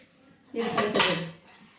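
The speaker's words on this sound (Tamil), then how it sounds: "இந்த சின்ன சின்ன தட்டு இதெல்லாம் போட்டு வச்சுருக்கேன்" Small plates clatter and clink as they are handled in a home kitchen cupboard, one short burst of dish noise close by.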